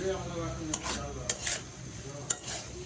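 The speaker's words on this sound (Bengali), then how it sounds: "হলুদ মরিচ দেওয়ার পরে এর মধ্যে একটু নাড়াচাড়া দিব" Spoon stirring turmeric and chili powder into a peanut curry in a pan, a few soft scraping clicks over a low, steady sizzle, close by with no talking.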